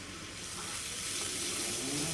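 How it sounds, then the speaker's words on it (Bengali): Two goat brains fry in a pan with salt and spices, a brief, steady hiss of sizzling that grows slightly louder over a couple of seconds. "এখন আমি একটু লবণ দিয়ে আর একটু ভেজে নিব"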